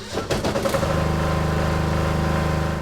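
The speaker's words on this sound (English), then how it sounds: "This is a static generator inside, turning on and idling." A static generator inside a bunker in the video game DayZ sputters to life with a few rough bursts, then settles into a steady, pulsing low idle.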